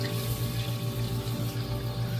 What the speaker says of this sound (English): Now I'm going to add cool water.